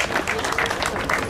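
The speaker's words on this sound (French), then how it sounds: "un deuxième prix pour Koikishi Europe, vous pouvez l'applaudir" Brief, dense applause from an audience at the FKS Wattrelos 2018 prize-giving ceremony greets a second-prize winner, a quick burst of many hands clapping at moderate distance.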